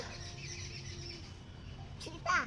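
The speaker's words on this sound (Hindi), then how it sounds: "आवाज बाहर से आया, चिड़िया बोल रहा है।" A few quick bird chirps ring out near the end, brief and fairly clear, over a low steady background hum.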